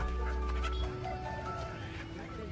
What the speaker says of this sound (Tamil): சண்டை கோழின்னு நினைக்கிறேன் அந்த கோழி பார்க்கறதுக்கு.